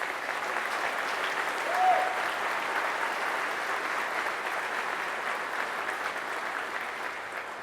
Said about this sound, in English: Let's give the veterans another round of applause.